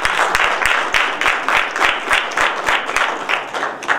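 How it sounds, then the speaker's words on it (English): Crowd at a village press conference applauding, dense clapping with individual sharp claps standing out in a loose rhythm, steady and fairly close throughout, no talking. "Give yourself a round of applause."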